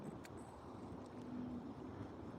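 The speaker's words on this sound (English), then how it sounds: "Quite windy." Wind blows steadily across a lake on a cloudy, cool day, a continuous broadband rush with some microphone buffeting and no talking.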